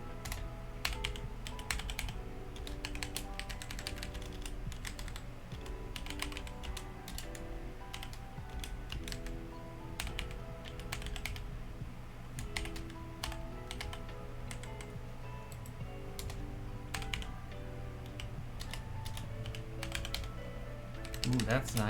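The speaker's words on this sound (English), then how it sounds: "I'm not typing correctly today." Steady typing on a computer keyboard, a dense run of quick key clicks over low background hum, with a voice talking in places.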